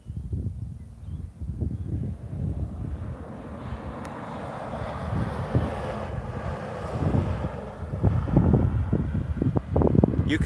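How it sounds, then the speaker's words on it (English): Wind buffets a fluffy-covered microphone outdoors at Shark Bay, a steady loud low rumble with gusty surges throughout, swelling stronger near the end. "You can hear the wind, Kerry."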